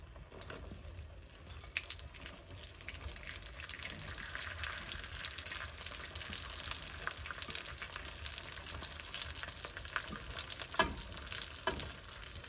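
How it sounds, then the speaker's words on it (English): Cooked rice tossed into a hot pan with partly cooked egg for egg fried rice, a continuous close sizzle with scraping stirs and occasional sharp clicks, no voices. "before the whole egg is cooked, I'm going to add in my rice"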